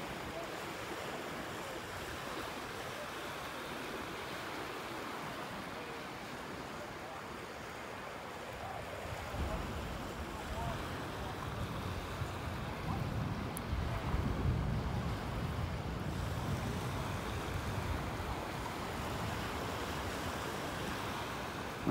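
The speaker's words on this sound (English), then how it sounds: "That's the end of the beach." Waves washing onto the beach at Delnor-Wiggins Pass State Park in Naples, Florida, a faint steady surf rush under wind noise that swells louder midway through, with no talk.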